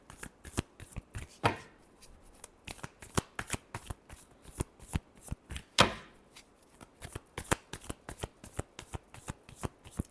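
Tarot cards are shuffled by hand in a rapid, irregular riffle of crisp slaps and flutters, with a couple of louder bridging bursts, close and quiet throughout with no voice.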